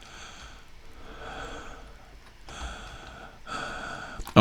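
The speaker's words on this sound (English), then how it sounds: "just breathe heavy into the microphone, into the receiver." A man breathes heavily and raspily right into a phone microphone, like a prank-caller stalker, with three drawn-out, breathy exhales close to the mic, separated by brief pauses.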